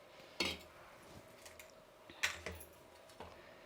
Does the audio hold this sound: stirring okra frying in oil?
yes